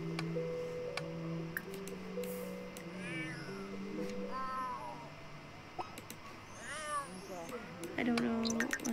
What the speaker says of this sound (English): Cat is in heat again.